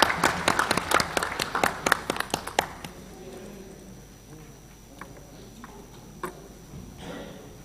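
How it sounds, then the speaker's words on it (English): Audience applause at an arbitration conference session, a burst of dense clapping for about three seconds that thins into scattered claps and fades, with light room noise after. "Please have a huge round of applause for the wonderful session."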